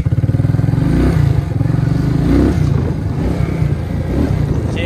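A Suzuki KingQuad ATV engine runs close by in low range while its gears are tested, a steady loud chugging idle with slight revving swells and mechanical clatter.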